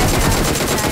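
Rapid bursts of video game gunfire crackle nonstop at close range, loud and dense, with a low rumble beneath.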